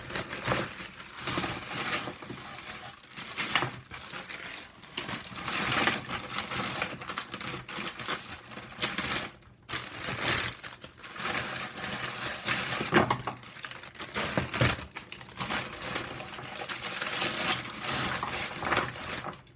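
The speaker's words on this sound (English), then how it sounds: "I'm now going to empty more packages into the stock pot" Wet crushing, squelching and crinkling as packages of tomatoes are emptied into a stock pot for canning sauce, a busy close-up jumble of plastic and soft fruit sounds running throughout with no talking.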